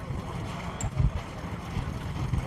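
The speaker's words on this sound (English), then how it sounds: "it is very windy here in Tenerife" Strong wind blows outdoors in Tenerife, a steady, rough rumble buffeting the microphone with a brief stronger gust.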